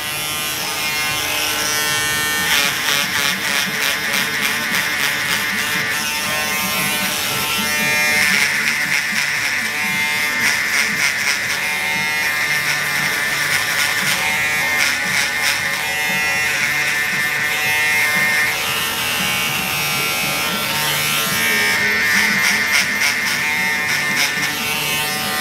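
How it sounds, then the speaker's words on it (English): An electric shaver buzzes steadily and continuously while it is used during a bald fade haircut. The hum stays loud and close the whole time, with no talking. "I'm gonna be using my shaver."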